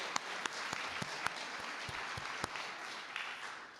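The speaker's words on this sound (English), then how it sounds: "I think that deserves a round of applause in itself." Audience applause at a Nottingham Citizens members' meeting, a steady wash of clapping with a few sharper individual claps standing out, moderately loud and close, continuing alone without talk.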